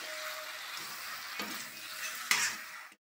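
Chicken with potatoes and tomatoes stirred in a hot pan: a steady, loud sizzle runs throughout, with two sharp spoon scrapes against the pan near the end before the sound cuts off abruptly; no voices.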